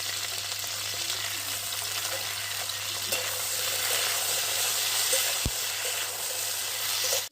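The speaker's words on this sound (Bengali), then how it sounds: "এবার আমি বিনস বরবটি আর বেগুনটা ভেজে নেবো তার সাথে লাল আলুটাও ভেজে নেবো" Beans, yardlong beans, eggplant and red potato frying in oil in a kadai give a steady, close hiss that runs unbroken throughout, with a single faint knock partway through.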